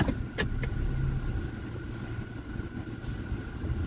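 A car carrying a food delivery pulls away, its engine and road noise steady and close throughout with a couple of brief clicks near the start.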